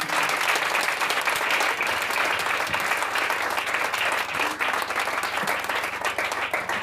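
Church congregation applauding during a French-language sermon, a dense, continuous wash of many hands clapping, loud and sustained throughout.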